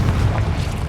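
A Confringo blasting spell in the Hogwarts Legacy video game, a short, loud, rumbling fiery boom with heavy low-end roar lasting about a second without pause.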